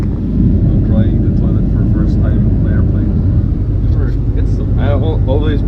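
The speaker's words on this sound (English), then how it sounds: "the landing in Bahrain was very nice" A passenger airplane landing in Bahrain, heard from inside the cabin as a loud, steady engine and airflow roar that fills the whole clip, with faint voices under it.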